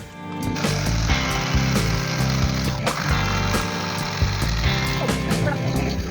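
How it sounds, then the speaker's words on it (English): A jigsaw cutting through pallet wood makes a loud, steady buzzing and rattling rasp that runs almost without a break, with brief dips where the blade shifts in the cut. "I'm gonna try and use the jigsaw for the first time"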